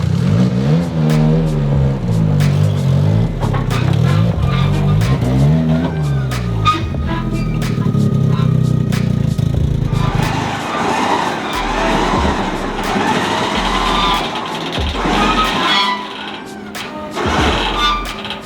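A Toyota GR Corolla built toward 500 wheel horsepower, its engine loud and close, revving up and down in repeated climbs, then rough crackling bursts as it flat shifts, continuous throughout.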